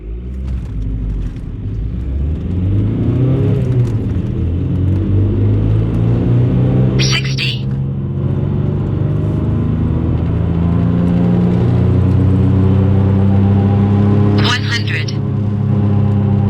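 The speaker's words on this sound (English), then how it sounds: "now we're about to do a 60 to 100 roll" A tuned Volkswagen TDI diesel car accelerates hard in a 60 to 100 roll, its engine note climbing steadily in a loud in-cabin rumble through two gear changes, with people talking over it.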